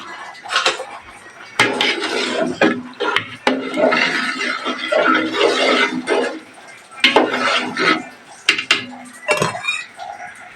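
Dishes, plates and bowls washed in a kitchen basin with running water, clattering and clinking in irregular bursts close by, with no talk.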